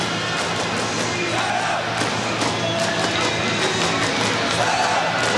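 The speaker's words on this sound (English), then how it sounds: "the Latvian fans cheering, a better spell from their team" Latvian fans at a 1997 ice hockey world championship game against Sweden, a broad roaring crowd cheer sustained throughout the arena, steady and dense with faint swells.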